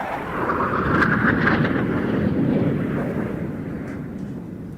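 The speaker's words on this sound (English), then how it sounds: "Really interesting aeroplane, this." A loud Aero L-159A Alca jet attack aircraft roars past at an airshow, swelling to a peak and then fading into a broad, rumbling wash of engine noise.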